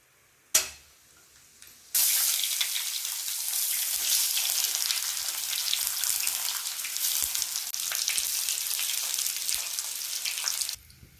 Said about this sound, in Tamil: அதுக்காக கொஞ்சமாக எண்ணெய் ஊற்றி கடுகு உளுத்தம் பருப்பு போட்டிருக்கோம்.